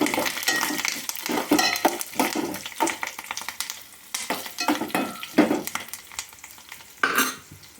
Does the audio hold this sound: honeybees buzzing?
no